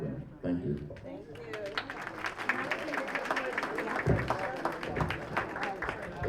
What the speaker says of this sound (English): Let's just give another round of applause for all the DTMs.